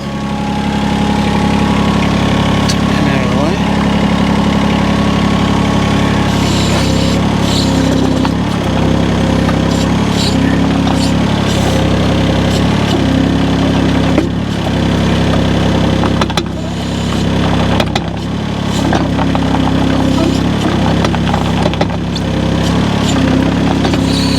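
A mini excavator engine runs steadily at a mid-level drone while the tracks are driven back and forth. Faint clanks and squeaks come from the tracks, close and continuous, with no talking.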